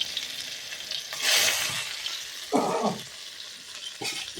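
Tomatoes going into a wok and frying: a hissy sizzle that swells into a loud burst, then a few short scraping stirs of the spatula over a continuing fry.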